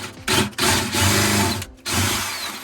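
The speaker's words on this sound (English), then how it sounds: "Next, I'm going to drill down to fish my wire." A power drill bores down through the base of a kitchen cabinet to fish a wire, running in close, loud bursts with short pauses between them.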